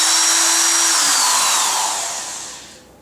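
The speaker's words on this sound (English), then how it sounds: "drill the holes." A power drill bores pilot holes in wood for wood screws while a box is being assembled, a loud steady whine holding near and constant, then dipping in pitch and trailing off as the bit slows and stops.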